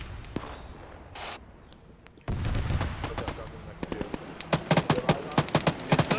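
Automatic grenade launcher (AGS) fire in Arma 3 during a jungle battle, a run of sharp, loud repeated reports in the second half, closer and punchier toward the end, over a rumbling background of other combat noise.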